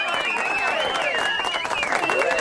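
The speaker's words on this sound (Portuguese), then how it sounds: "Aplausos para o Mota." An audience applauds the commentator Roberto Motta, with clapping mixed under whooping, whistling voices and cheers that rise and fall throughout the short burst.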